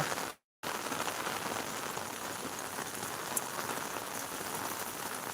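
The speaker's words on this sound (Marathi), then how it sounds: "पाऊस सध्या थोडा मध्यम स्थितीमध्ये या ठिकाणी सुरू असून" Moderate rain patters on surfaces in a dense, even hiss, briefly cutting out near the start, with no voices.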